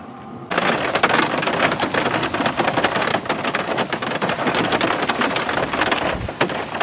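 Heavy rain pours steadily during a severe thunderstorm squall line near Narrabri and Moree, New South Wales, a dense, loud roar of drops hitting surfaces that starts abruptly and continues without pause.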